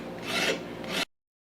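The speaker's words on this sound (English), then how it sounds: "I'm going to chamfer the edges of the slide right now while it's all clamped." A hand file rasps steadily along the edges of a 1911 pistol slide clamped for chamfering, one continuous close scraping stroke of about a second that stops abruptly into silence.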